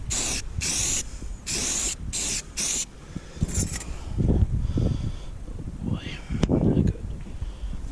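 Spray paint hisses from a poor-quality aerosol can nozzle in bursts while RV trim is painted, with several short sharp sprays at the start, followed by quieter rustling and handling sounds with a voice talking.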